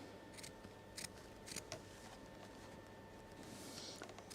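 Scissors snip through fabric while lace is worked at a sewing machine, giving a few faint, crisp cuts spaced apart against a quiet room hum with no speech.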